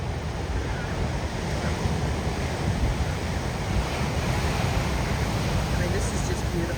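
Rough ocean surf crashes and splashes on rocks at Sharks Cove, Hawaii, a continuous broadband roar with wind buffeting the microphone, steady and loud.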